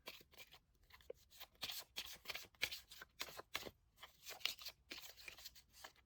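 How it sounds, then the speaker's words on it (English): Tarot cards are shuffled by hand in quick papery bursts and riffles, quiet and close, repeating in an uneven rhythm with no talking. "So let's shuffle for the second part."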